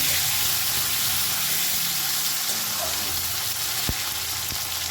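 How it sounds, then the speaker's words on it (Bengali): Fried potatoes and chopped tomatoes sizzle in a pan while being stirred, making a steady, hissing fry with a couple of brief knocks near the end and no talk. "আলুগুলো ভেজে নিয়েছি দিয়ে দিলাম কেটে রাখা টমেটো ভালো করে একটু নাড়াচাড়া করে"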